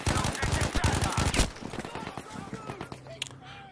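Rapid automatic gunfire in the shooter game Battlefield V, a loud dense burst of shots for over a second, then scattered quieter shots and in-game effects trailing off.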